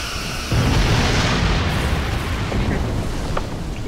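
A starship explodes in the space combat game Star Trek Online, a loud rumbling burst that swells and rolls for several seconds, with faint game effects and some talking underneath.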